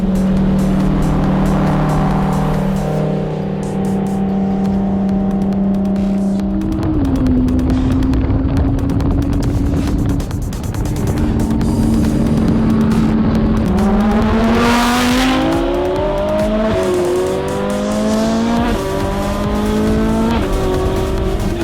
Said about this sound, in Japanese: 彼のランボルギーニはかっこいい。 音がいい。